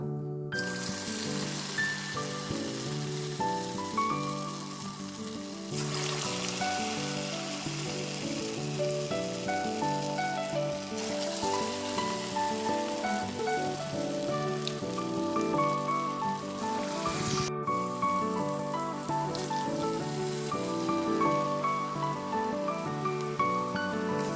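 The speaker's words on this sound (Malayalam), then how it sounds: "എണ്ണ നന്നായി ചൂടായി വന്നിട്ടുണ്ട് ഇനി നമുക്ക് അതിലേക്ക് നമ്മൾ ഉണ്ടാക്കി വെച്ച ആ ഒരു മിക്സ് നമുക്ക് ഇതുപോലെ ആക്കിയിട്ട് എണ്ണയിലേക്ക് ഇട്ട് കൊടുക്കാം" Dates mixture frying in hot oil, a dense continuous sizzle and crackle that stays loud and steady throughout with no voices.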